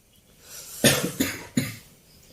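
A person coughs three times in quick succession, close and fairly sharp, in an otherwise quiet room.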